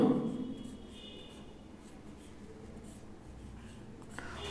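Handwriting with a pen on paper while working an accounting lesson, a faint, steady soft scratching that carries on for several seconds in a quiet room with no speech.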